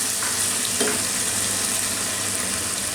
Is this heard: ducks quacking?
no